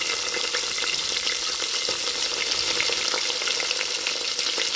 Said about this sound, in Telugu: లైట్ గోల్డెన్ కలర్ వచ్చేదాకా వేయించుకోండి ఫ్రెండ్స్.